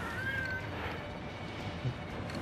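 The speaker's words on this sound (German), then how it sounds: "Ja, meine Katze dreht gerade ein bisschen am Rad." A pet cat meows indoors, one drawn-out meow near the start followed by fainter shuffling and room noise, heard alone without talk.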